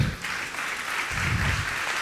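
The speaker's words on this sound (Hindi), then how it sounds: "थोड़ी तालियां कम लग रही है मुझे" A steady wash of applause from a seated audience at a Jain Q&A session with Muni Pramansagar, fairly loud and continuous for two seconds with no speech over it.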